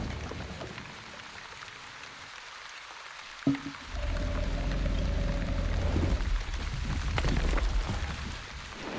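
Steady rain washes down in the survival game The Wandering Village, a continuous hiss of falling water with a sharp knock midway and a soft low tone briefly rising over the downpour.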